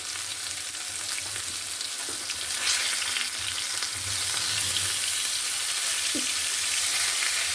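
Katla fish pieces, seasoned with salt, turmeric and dry chilli, frying in a pan with a continuous close hissing sizzle and a few soft stirring clinks, steady and fairly loud throughout.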